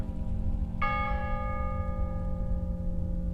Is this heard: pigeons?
no